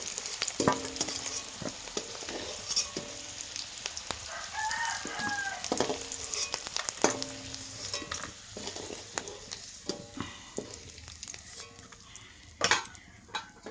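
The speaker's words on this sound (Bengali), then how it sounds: "আমি আলুটাও ভালোভাবে ভেজে নেব" Potatoes frying in oil in a wok, heard as a steady crackling sizzle with repeated close metallic scrapes and knocks of a spatula, while a rooster crows faintly in the background.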